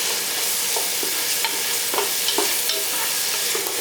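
Cubed vegetables for Kerala-style mixed pasta masala sizzling and frying over a high flame, with a spoon scraping and stirring the pan in irregular clinks, close and steady, no voices.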